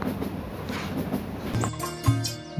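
The Burimari Express, a Bangladesh Railway intercity train, runs on rails with a steady, close rumble that gives way to brief squealing, metallic tones near the end.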